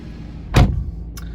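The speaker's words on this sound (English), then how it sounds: "Just jump in, straighten the steering wheel, close the door." A Valencia Orange BMW 120d xDrive M Sport has its door shut from inside: one solid, close thunk, followed about half a second later by a faint latch click.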